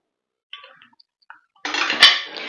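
Boiled raw green banana mashed by hand in a bowl: a few faint taps, then about a second of close, dense squishing and scraping with a brief clatter against the bowl.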